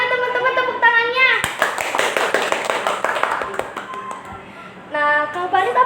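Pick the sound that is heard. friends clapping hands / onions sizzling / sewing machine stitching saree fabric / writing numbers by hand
friends clapping hands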